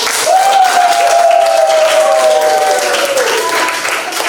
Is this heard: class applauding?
yes